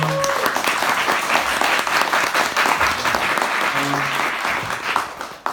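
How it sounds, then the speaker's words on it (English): A room full of people clapping steadily and loudly, the applause holding strong for several seconds before tapering at the end. "Can I get one more round of applause for Renee?"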